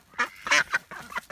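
A backyard duck quacks several times in quick, uneven succession, close and fairly loud, with no talking over it.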